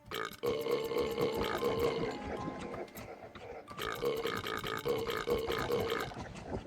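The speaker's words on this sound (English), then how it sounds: "I dig the burping sound, that's funny" Burping effect from the video game Slormancer: two long, loud, gurgling belches, each lasting about two seconds, separated by a brief pause, with a throaty, rumbling tone.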